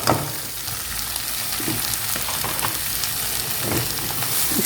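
Chopped bathua greens sizzling in a pan over browned garlic for bathua kadhi, a continuous close frying crackle with intermittent stirring scrapes, no talking.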